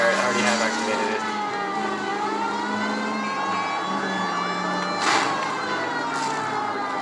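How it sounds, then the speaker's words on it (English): Police car siren in the LA Noire video game, a loud continuous wailing tone sweeping up and down over the low hum of the car's engine, heard close and without pause throughout. "I'll activate my siren."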